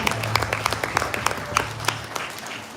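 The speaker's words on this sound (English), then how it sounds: "Please, another round of applause for him." Applause for a surprise speaker at a community gathering of Nigerians in London, fairly close individual claps in an uneven rhythm with a low hum underneath, brief and moderately loud.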